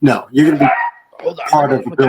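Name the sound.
dog barking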